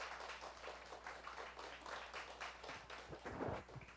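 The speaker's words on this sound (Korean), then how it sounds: "박수 한번 드립니다" A congregation applauds during a Sunday afternoon church service, a faint, distant patter of many hands that swells briefly near the end.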